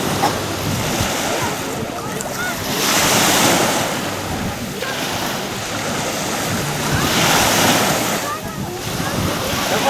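Sea waves wash onto a shallow sandy beach at Kızkalesi, a steady surf roar rising and falling in slow swells with wind buffeting the microphone, and faint voices at times under the water noise.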